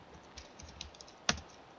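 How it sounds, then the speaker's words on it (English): A computer keyboard being typed on in short, light bursts of clicks with one sharper key strike, quiet and close, with no voices. "I thought I was good at typing."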